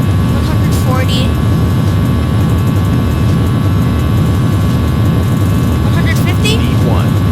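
Airbus A320 jet engines roaring during a takeoff roll in a flight simulator, a loud steady broadband rumble with brief voice fragments faintly over it.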